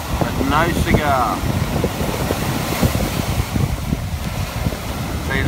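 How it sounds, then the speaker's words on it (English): Ocean surf at high tide churns and washes in a continuous rough roar with wind buffeting, while someone talks briefly near the start. "See, those three waves should have made it up here for sure."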